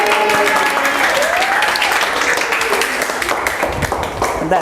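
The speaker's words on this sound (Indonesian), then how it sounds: "Tepuk tangan untuk Grace." A crowd claps and cheers in sustained applause, dense and lively, with some voices mixed in throughout.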